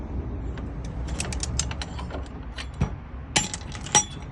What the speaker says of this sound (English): This for turning the brake piston just to push it inside clearly